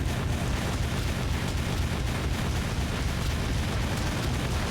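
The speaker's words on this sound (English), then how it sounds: "Where are they shooting from?" Continuous dense rumble of explosions and gunfire in the Jak II video game, a loud, steady barrage with low booms layered throughout and no clear gaps between blasts.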